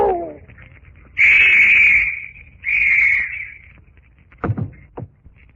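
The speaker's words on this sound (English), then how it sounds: "The whistle will summon others." In an old radio drama, a shrill whistle sounds in two long, loud blasts, followed by a couple of short knocks or thuds in an otherwise quiet scene.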